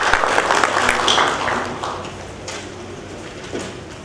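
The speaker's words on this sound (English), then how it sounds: "Let's welcome him with a warm round of applause." Audience at a national conference on electoral laws applauds to welcome a speaker, a moderately loud broadband patter that fades steadily over a few seconds and trails off into room noise.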